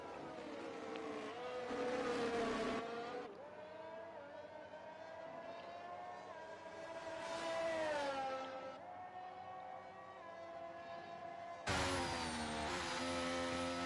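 Formula 1 race cars in the F1 23 video game at Austria: high-pitched engine whine rising and falling through gear changes and passes, loud and continuous without speech.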